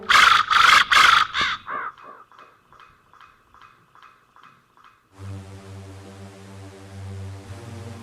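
A raven cawing as a radio-drama sound effect: a burst of loud, harsh caws, then a string of fainter, quickly repeated calls that fade away, followed by a low steady hum.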